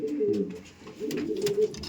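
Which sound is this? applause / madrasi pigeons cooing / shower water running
madrasi pigeons cooing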